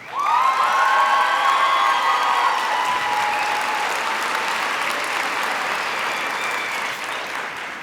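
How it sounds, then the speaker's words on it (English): A crowd at a high school graduation ceremony gives teachers and staff a loud, sustained round of applause with some cheering mixed in. The clapping stays dense and close for about eight seconds, easing slightly toward the end. "why don't we all give a huge round of applause for every single teacher and staff member"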